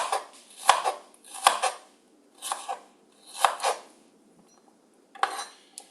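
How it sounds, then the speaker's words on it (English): Kitchen knife chopping food into fine small pieces for a rava upma dinner, heard as five separate bursts of cutting and scraping against a board, close and moderately loud, with quiet pauses between them. "then you cut it into fine small pieces"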